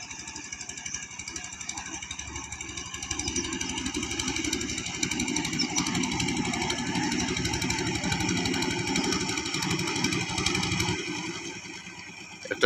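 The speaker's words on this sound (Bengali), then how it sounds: "নৌকা একটি আসতেছে, আপনারা স্ক্রিনের শব্দ শুনতে পাচ্ছেন।" An approaching river ferry boat's engine chugs steadily at a moderate distance, a rough continuous motor drone that builds slightly and holds before cutting off near the end, with a person talking over it.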